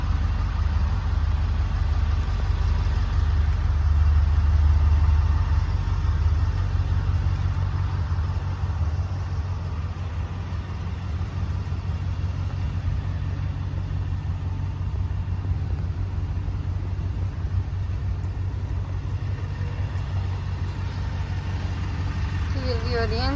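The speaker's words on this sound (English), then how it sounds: "wanted to take a quick video of a truck here for you" A Ford F-550 truck idles close by, a steady low rumble that barely changes over a long stretch.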